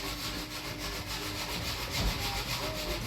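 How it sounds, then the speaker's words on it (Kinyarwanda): Grated cassava is mixed with onions by hand, producing a close, steady wet rubbing and squishing with a repeating rhythm and no talk. "Imyumbati tumaze kuyirapa, ubu ngubu tugiye kuba twavanga na bya bitunguru."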